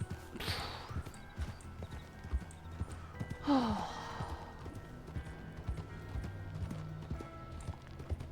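Hooves clip-clop in a steady rhythm at moderate distance in a video game, with a couple of brief whooshing bursts and a short whinny partway through.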